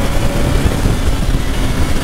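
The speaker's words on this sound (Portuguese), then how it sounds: "Mano, que moto rápida." Motorcycle ridden fast, a loud, rough engine roar close by, continuous and slightly fluctuating with wind buffeting.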